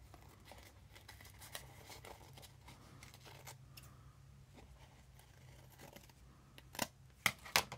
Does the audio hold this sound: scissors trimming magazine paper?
yes